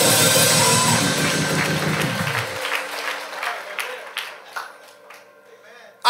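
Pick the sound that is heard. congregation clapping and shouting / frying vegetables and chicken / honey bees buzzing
congregation clapping and shouting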